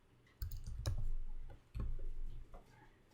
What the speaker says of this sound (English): So we'll just type in file N.